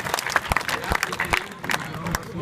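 An audience at a Hindi poetry gathering (kavi sammelan) in Muzaffarpur applauds to welcome a poet, giving a crowd-wide patter of clapping broken by a few sharp, louder claps, with voices mixed in.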